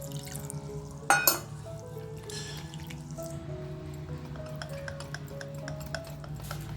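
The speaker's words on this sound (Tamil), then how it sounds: "இன்னும் கொஞ்சம் இந்த மிச்சம் இருக்கிற தண்ணியை சேர்த்துக்கலாம்." Water trickles and drips into buttermilk batter for mor koozh, with a brief loud clinking splash near the start and steady faint stirring ticks afterward.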